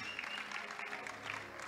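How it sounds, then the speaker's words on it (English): A church audience at a celebration for Family Bishop Masengo applauds a gift, a soft, fairly distant wash of clapping that holds steady throughout, with a brief dip midway. "Let's round applause for the gift."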